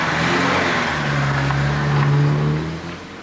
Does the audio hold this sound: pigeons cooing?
no